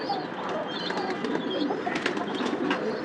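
Pigeons on a rooftop give soft cooing calls with faint chirps and a brief flutter of wings, close by and moderately quiet, with no voices.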